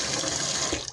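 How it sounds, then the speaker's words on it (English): Cold water poured over raw pork pieces in a bowl to rinse them for Haitian griot, a steady close splashing and gushing stream that tapers off at the end, with no talking. "you're gonna pour some cold water in that, okay? Just to rinse it"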